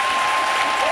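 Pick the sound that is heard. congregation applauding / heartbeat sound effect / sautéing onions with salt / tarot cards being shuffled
congregation applauding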